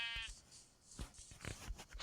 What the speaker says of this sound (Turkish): Oo ne kadar koyun var ha